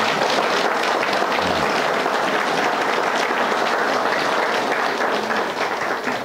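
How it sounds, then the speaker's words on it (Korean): An audience at a general meeting applauds with sustained, dense clapping, loud and even throughout before tapering slightly at the end. "박수 한번 해주시죠."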